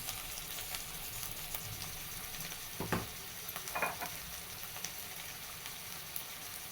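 Spices with red chilli, turmeric, asafoetida and garam masala fry in oil for a sprouted moth bean curry, a continuous low sizzle marked by a few nearby scraping stirs and knocks against the pan.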